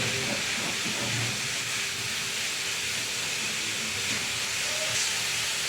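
Leftover roti frankie filling sautéing in a pan, giving a steady, even sizzling hiss that runs unbroken throughout at close range, with no talk over it.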